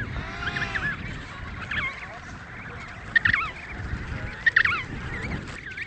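Emperor penguins calling in Antarctica, a colony of harsh trumpeting, honking cries overlapping at moderate distance, with a few louder nearby calls standing out above the steady din.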